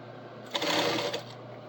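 A sewing machine stitches over a fabric seam in one short burst of rapid mechanical whirring that rises then stops, close and fairly quiet.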